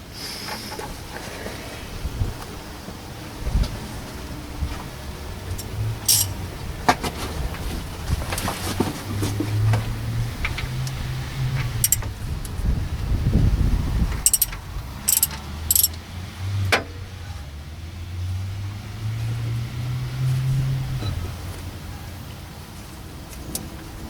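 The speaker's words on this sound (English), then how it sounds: "I'm going to slacken the tensioner so it pulls the belt and gives us some tension, and then I'm gonna tighten it back" A wrench works the timing belt tensioner on a Honda CR-V, giving a run of close metallic ratchet clicks and clanks over a low mechanical rumble, with sharper knocks partway through and no talking.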